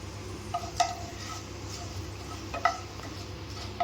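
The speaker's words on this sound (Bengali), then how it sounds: "তেলটা ঘিটা হয়ে গেলে এটা আমি এই যে তেজপাতা গোটা শুকনো লঙ্কা আর গোটা গোলমরিচ ফোড়ন দিলাম" Bay leaf, whole dry chilli and peppercorns temper in hot oil and ghee with a low steady sizzle, broken by a few sharp clinks of a utensil against the pan.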